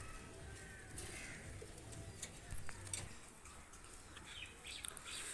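Oman-Saki pigeons, a cross of Saki and Oman breeds, cooing softly in a few low throaty bursts over faint background noise, fairly quiet and close by.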